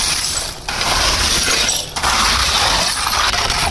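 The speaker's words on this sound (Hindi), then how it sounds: "ये सबसे पहले हम नीचे बजरी डाल लें।" Gravel pours into the base of a homemade bakery oven, a loud, continuous rattling rush of stones that briefly dips twice before surging on.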